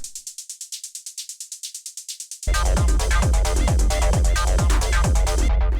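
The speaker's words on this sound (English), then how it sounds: "The next thing we have here is this little shaker" A crisp, rhythmic electronic shaker ticks alone at first, then continues on the offbeats over a heavy techno kick pattern.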